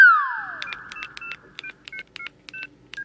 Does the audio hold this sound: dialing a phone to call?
yes